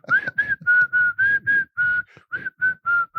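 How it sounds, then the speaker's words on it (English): A single person whistles the Kill Bill theme, a melody of about a dozen clear, sustained notes in a steady rhythm, close and loud with nothing else audible. "I also did the Kill Bill whistle."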